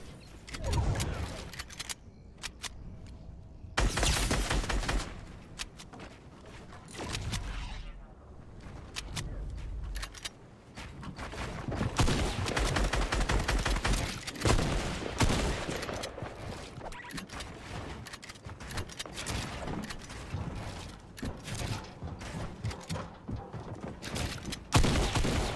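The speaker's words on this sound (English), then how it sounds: "I whiffed two shotgun shots there" Shotgun blasts from a first-person shooter video game, a run of sharp, loud gunfire bursts mixed with other game effects and constant chatter, the shots clustering early and recurring through the action.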